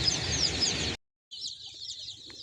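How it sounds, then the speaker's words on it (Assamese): Duckling and chick young birds cheep in high, rapid peeps during transport, nearby and fairly loud, broken by a brief silence before the chirping resumes. "এতিয়া আমি পোৱালিখিনি নমাম, হাঁহ আৰু কুকুৰা পোৱালিখিনি"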